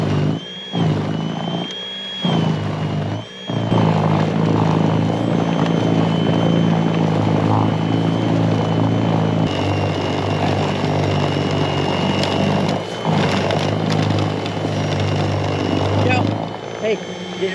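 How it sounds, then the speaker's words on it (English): A Greenworks 80V cordless brushless snow blower runs loud and close in deep snow, a steady whirring electric motor and auger drone with brief dips, while a person speaks over it at points. "let's go to other parts of the house and do some snow blowing"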